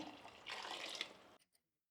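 Water is poured into a pressure cooker while making avarekalu (field bean) khichdi, a close splashing gush that runs for over a second and then stops abruptly, followed by a drip or two.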